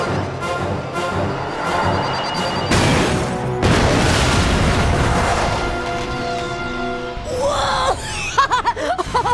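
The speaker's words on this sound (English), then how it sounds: "Check out that explosion!" Heavy explosion in the PS2 game Ratchet: Deadlocked: loud broadband blasts and rumbling booms that roll on for several seconds, followed by excited, laughing game-character chatter at the end.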